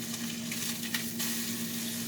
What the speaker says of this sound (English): Make my egg. Oh, I put some butter on it.